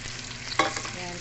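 Beef kafta fries in butter with a little olive oil, giving a soft, steady sizzle close by, with one brief clatter of stirring partway through and no talking.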